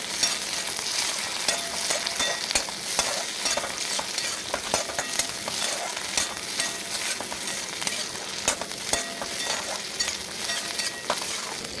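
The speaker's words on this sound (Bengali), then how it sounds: "তারপর আমি এই টমেটোটা দিয়ে দেবো টমেটোটা মেরে নেব আমি" Tomato stir-fried in a pan for chira pulao, a continuous close sizzle broken by frequent spatula scrapes and clinks against the pan.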